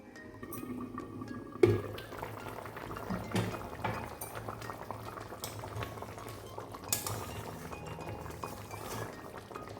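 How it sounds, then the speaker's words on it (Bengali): Mustard katla fish curry simmers on a low flame under a lid with a soft, steady bubbling. A louder metallic clink comes early on and faint knocks follow. There is no talk. "এইভাবে লো ফ্লেমে একটা ঢাকনা দিয়ে ঢেকে আমি তিন মিনিট রান্না করে নেব"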